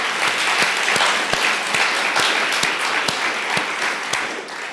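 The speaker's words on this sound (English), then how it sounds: "So I wonder if we can just give them a clap." Audience applause for sponsors at a vegetable summit, a sustained dense patter of many hands with a few sharper individual claps cutting through, steady and fairly loud throughout.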